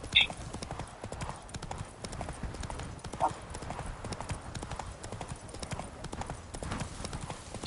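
Roach, the horse in Witcher 3, trots along with a steady, quick clip-clop of hooves, moderately close but faint, as a person talks over the rhythm.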